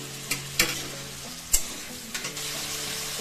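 Greens, tomato and boiled potato being stirred in a pan, giving a soft, steady sizzle broken by a few sharp scrapes and clinks of a spoon against the pan. Nobody speaks.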